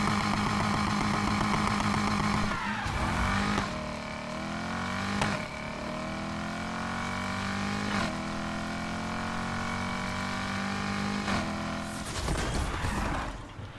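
Simulated drag-race launch in NFS Heat: an engine holds a loud steady drone, then rises in pitch through several gear pulls from third to second, with sharp shift breaks and a final burst of revs near the end.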